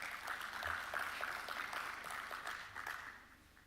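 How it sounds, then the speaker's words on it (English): Scattered audience applause greets a panel moderator at a Nairobi tech week fintech session, a soft, fairly distant patter of hands that thins out and fades toward the end. "A good clap for Mercy Kimalat."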